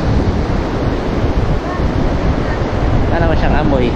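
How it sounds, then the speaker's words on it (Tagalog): Surf washing onto the beach at Casapsapan Beach Resort in Casiguran, Aurora, a steady broadband roar with heavy wind rumble on the microphone and faint voices near the end. "Dagat."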